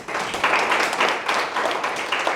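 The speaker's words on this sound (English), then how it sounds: "everyone give applause for them" A classroom group claps for a couple of seconds after a student presentation, a dense patter of hands at even loudness from start to finish.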